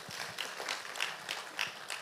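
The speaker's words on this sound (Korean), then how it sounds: "박수하시겠습니다." A church congregation claps at a Sunday worship service, soft and a little distant, the irregular claps coming in short bunches with no voices over them.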